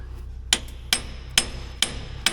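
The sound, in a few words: hammer striking dragline undercarriage track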